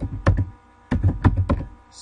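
Close, fairly loud typing on a computer keyboard at a Windows 8.1 PC: two short bursts of key thunks with a brief pause between them.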